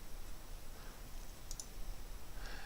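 A single quick mouse click, a sharp close double tick, while working in Windows folder properties, set against a quiet steady hiss with no speech.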